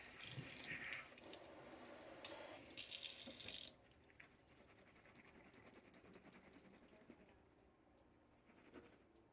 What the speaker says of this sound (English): just giving it a quick run of water under the sink